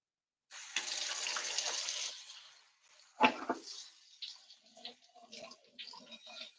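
Tap water runs steadily into a sink over a cast iron piece being rinsed of lye, a continuous wash of splashing that breaks into irregular spatters and drips partway through.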